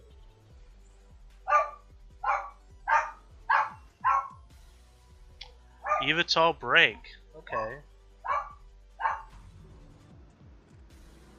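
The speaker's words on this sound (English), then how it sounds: "Again, guys, sorry about the barking." A puppy barks in a room: about a dozen sharp, close yaps in an uneven series, some doubled, with a person speaking briefly between them.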